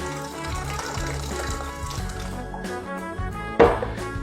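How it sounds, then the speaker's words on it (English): Silver tequila, two ounces, poured into a blender jar for a margarita; a soft, steady liquid trickle over a low hum, ending in a brief louder clunk near the end. "So I'm going to go ahead and add in 2 ounces of that."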